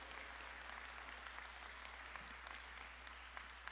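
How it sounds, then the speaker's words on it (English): Steady applause from an audience at a bill-signing event honoring Chris Morales, a dense even wash of clapping that holds at a constant level throughout. "Give this young man a round of applause for his incredible work"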